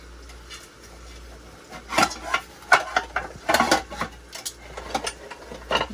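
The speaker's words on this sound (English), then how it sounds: "I'm gonna turn it to 5 right now and just have this saute" Food sauteing in a pot on a stovetop turned up to a medium-high setting, with quiet sizzling and a run of scraping, clattering stirring noises in the middle and end.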